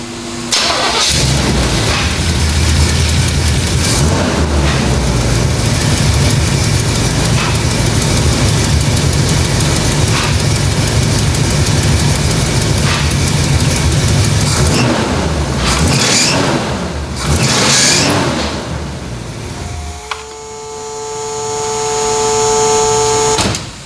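A 1972 Oldsmobile Cutlass engine cranks and fires up, then idles with a steady loud rumble close by under the hood, later dropping off before a thin high whine appears near the end; no one talks.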